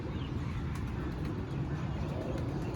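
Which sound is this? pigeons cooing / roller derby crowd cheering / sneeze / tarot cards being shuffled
pigeons cooing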